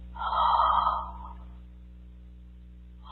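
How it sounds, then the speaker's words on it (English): A single person yawns, a breathy drawn-out exhale that swells for about a second and then fades into quiet, close and alone over a low steady hum. "It's making me yawn."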